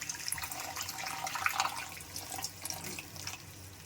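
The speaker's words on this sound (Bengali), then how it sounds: "এবারে আমি একটু জল অ্যাড করে দিচ্ছি" Water poured into a frying paneer curry gravy, a soft splashing, gurgling trickle with faint crackles, quiet and close, lasting a few seconds with no talk.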